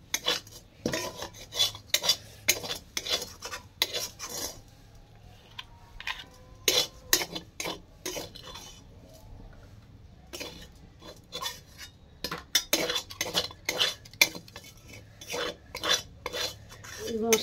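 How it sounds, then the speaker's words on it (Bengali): A utensil scrapes and stirs spice paste in a pan for pomfret fry, heard as repeated sharp scraping bursts in an irregular rhythm, close by with quiet gaps between strokes. "মশলাটা যদি চেঁচে চেঁচে দিয়ে যায় না, দারুণ সুন্দর লাগবে খেতে।"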